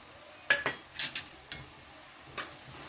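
A spoon clinks and scrapes against a pan while radish greens with grated fresh coconut are stirred and sautéed, a handful of sharp metallic taps, fairly quiet, with no talk.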